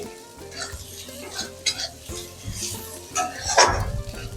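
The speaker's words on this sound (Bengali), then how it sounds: "এবার রসুন পেঁয়াজটা একসাথে ভালোভাবে ভেজে নেবো।" Crushed garlic and onion fry together in a home kitchen pan, with a soft sizzle under repeated scraping and clinking strokes of a spoon stirring against the metal.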